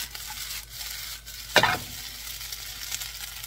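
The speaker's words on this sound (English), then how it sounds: "I'm gonna cook this rice probably 3 to 4 minutes." Jumbo shrimp fried rice sizzles steadily in a hot pan, with one brief louder burst of stirring and scraping midway before the frying hiss settles back to an even level.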